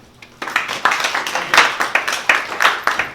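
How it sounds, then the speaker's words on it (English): Audience at an election debate clapping with sharp, dense claps that start abruptly and continue in rhythmic bursts, with no voices. "Is it okay if we hold the applause, actually?"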